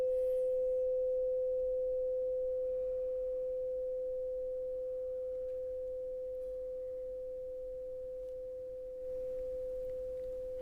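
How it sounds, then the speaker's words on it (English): A struck mindfulness awakening bell rings alone with one pure, sustained tone that fades slowly and evenly, with no voices. "Awakening bell."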